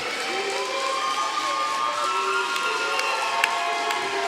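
A pro wrestling crowd cheers for Heath Hatton in his match against NWA World's Heavyweight Champion Adam Pearce, with loud sustained cheering, whistles and shouts ringing over a constant roar close at hand.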